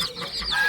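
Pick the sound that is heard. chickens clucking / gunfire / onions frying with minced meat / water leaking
chickens clucking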